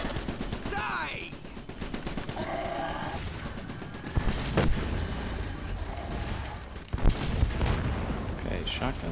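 Shotgun blasts in a trench-warfare video game, several sharp booming shots fired in quick succession against a constant noisy battle backdrop.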